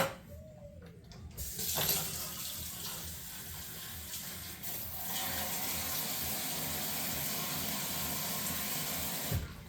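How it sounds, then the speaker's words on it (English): Tap water runs steadily into a kitchen sink while a can is rinsed out, a continuous splashing rush that starts after a brief quieter moment and holds at an even level to the end. "Okay, and then she'll rinse that can out."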